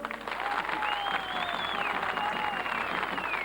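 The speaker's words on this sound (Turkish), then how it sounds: "Alkışlıyorsunuz" An audience applauds at a farmers' chamber rally in Salihli, a dense, loud wash of clapping that goes on steadily throughout, with a sustained whistle rising over it.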